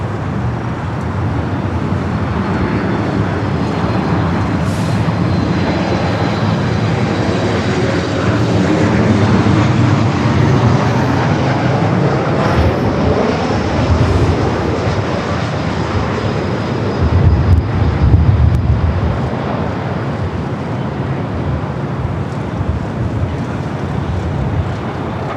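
A United Boeing 737 arriving at LAX from SFO drones loudly and continuously, the engine rumble swelling and easing with a whining tone and passing traffic noise beneath.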